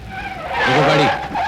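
A car skids to a stop in a 1990s Hindi action film scene, its tires giving a loud, rising screech that holds for about a second before fading out.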